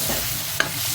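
Sautéed pork and garlic are stirred in a pan under a soft continuous sizzle, with one sharp scrape of the utensil near the middle.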